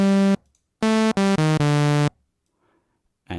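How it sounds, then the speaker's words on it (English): A bright, buzzy synthesizer tone sounds alone in several sustained bursts, with short gaps between them and pitch shifting downward across the notes. "Add a sawtooth."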